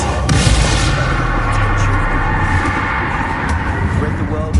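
Bombarda and Confringo spell blasts booming and crackling in Hogwarts Legacy combat against spiders, loud and continuous, with a spoken voice over the dense din.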